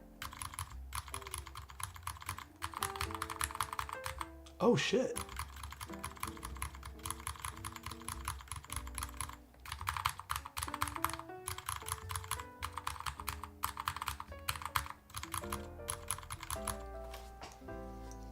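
Mechanical typing on a Schema M60 keyboard with ABS keycaps and EC parts. A steady, fast run of close keystrokes goes on throughout, with one short exclamation partway through.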